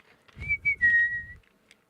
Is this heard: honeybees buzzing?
no